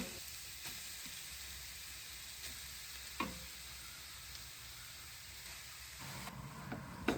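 Squeezed papaya sautés in ghee in a pan with a soft, even sizzle. Occasional light spoon taps and scrapes sound nearby, and no voices are heard.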